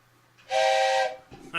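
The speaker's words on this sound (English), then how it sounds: "she gave her a train whistle" A toy train whistle is blown once in a single steady, shrill, close blast of about half a second, amid quiet room noise.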